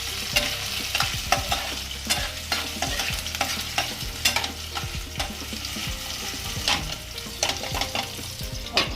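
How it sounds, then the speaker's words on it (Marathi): Potatoes sautéing in oil in a pan, a steady sizzle broken by repeated scraping and clinking strokes of a spoon stirring, close and continuous with no talk. "तर ते ना थोडं तेलात परतं ना आणि झाकून ठेवा"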